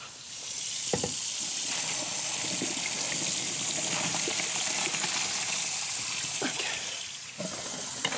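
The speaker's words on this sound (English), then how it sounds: "Okay, I always turn the cold water on." Cooked pasta is drained in a kitchen sink with the cold tap running, producing a steady loud rush and splatter of water that continues throughout with a few small knocks.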